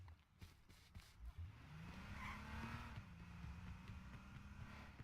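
A car drives past in a shooter video game, its engine a steady rising then settling drone that stays loud and close for several seconds, with game sounds around it.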